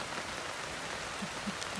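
Steady rain falling on a beach in North Naples, Florida, a soft continuous patter with scattered drops, heard alone without voices.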